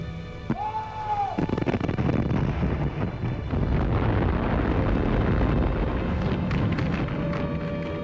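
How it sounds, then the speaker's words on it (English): Anti-aircraft shells burst during a Blitz air raid: a continuous heavy rumble of explosions and roaring blasts, loud and dense throughout, with a brief rising-and-falling tone early on and scattered crackles later. "You saw the anti-aircraft shells exploding, all these black puffs in the sky."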